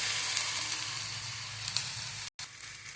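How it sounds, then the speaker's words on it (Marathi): Finely chopped onion frying in a pan, a steady close hiss of sizzling oil while it is stirred toward browning, with a brief dropout near the end. "कांदा ब्राऊन होईपर्यंत असा मिक्स करून घ्यायचा आहे छान असा"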